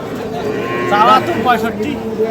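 A young Sahiwal bull calf gives a drawn-out moo close by at a cattle market, its voice rising and wavering, with a low murmur of background voices.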